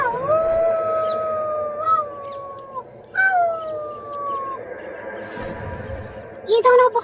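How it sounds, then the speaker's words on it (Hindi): A wolf gives long, drawn-out rising and falling howls, three main calls with breaks between them, followed by a short final cry, all as a story sound effect. "भेड़िया और शेर दोनों ही चुड़ैल की गुफा के पास आते हैं और उसकी गुफा में खूब तेज तेज दहाड़ने लगते हैं"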